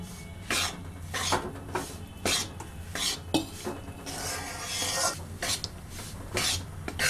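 Wheat flour roasts in ghee while a spoon scrapes and stirs it around the pan in repeated rasping strokes, close and moderately quiet, with a softer sizzling hiss in between.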